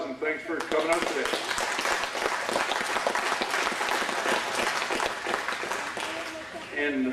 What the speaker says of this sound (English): I'd like to give them a big round of applause and thanks for coming out today